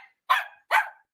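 A dog barks twice, sharp and close, with a short pause between the two barks and quiet before and after.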